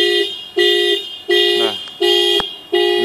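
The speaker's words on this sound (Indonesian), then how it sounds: "Dan diikuti oleh suara klakson." A Mitsubishi Pajero Sport Dakar car alarm sounds its horn in loud, close, evenly spaced blasts, about five in three seconds, each fading slightly before the next.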